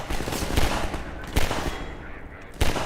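A pistol fires a few sharp, separated shots in Half-Life 2, loud and close, with a rumbling game background between them.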